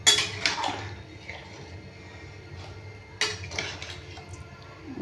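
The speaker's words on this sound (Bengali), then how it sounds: "সামান্য দিয়ে ভালো করে নাড়িয়ে নিই, দিয়ে মিশিয়ে নেব তরকারিটার সঙ্গে" Curry being stirred and mixed in a pan with a little ghee, metal scraping and clinking against the pan in two bursts separated by a quieter pause, close and moderately loud.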